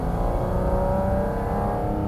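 A Porsche engine, in a Cayman GT4 RS or GT3 with a PDK gearbox, revs in a steady close-up drone with rising harmonic tones, loud and continuous for about two seconds with no talk over it.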